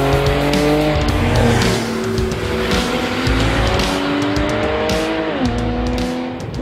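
A Porsche 911 (991) with sports exhaust roars loudly with rising and falling revs, broken by sharp overrun crackles and pops, all close and continuous.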